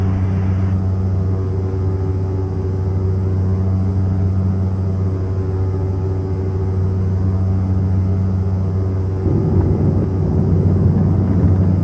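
Turbo Commander 690B turboprop engines run up for takeoff in the X-Plane 11 flight simulator, a steady loud droning rumble with strong tonal hum that swells slightly near the end as power increases.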